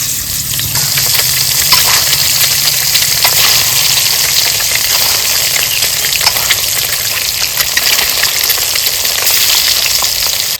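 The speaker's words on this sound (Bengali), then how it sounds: "তো একে একে ডিমগুলো ভেজে নেব।" Duck eggs fry in hot mustard oil in a kadai, giving a loud, continuous close-up sizzle and crackle that holds steady throughout.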